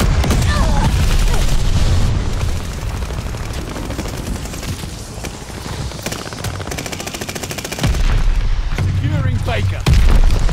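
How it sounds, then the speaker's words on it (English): Mortar barrage explosions in Call of Duty-style multiplayer on the Shipment map, dense booms and rapid gunfire filling the mix loudly and continuously, with bursts swelling near the end and game voice callouts over them. "Heads up, mortar barrage."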